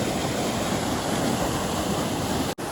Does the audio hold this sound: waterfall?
yes